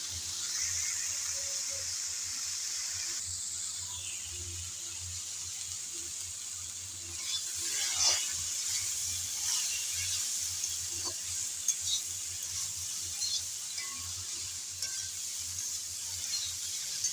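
Pointed gourd curry is stirred in a cooking pan, giving a steady low sizzle with soft scraping and wet stirring noises throughout and a few brief louder scrapes.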